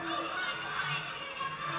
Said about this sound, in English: With the crowd on its feet here in Morgan.